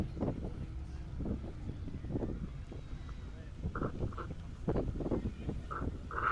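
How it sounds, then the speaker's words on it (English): Blustery wind buffeting the microphone at the seaside in Whitby, heard from a boat near the harbour, a steady low rumble with faint voices in the background. "More wind."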